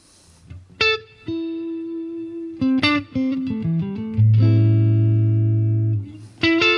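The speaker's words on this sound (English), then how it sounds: "Just a nice big reverb sound." Electric guitar notes and chords through a modeled Fender Deluxe Reverb amp with hall reverb ring out one after another, each trailing off in a spacious, lingering reverb tail.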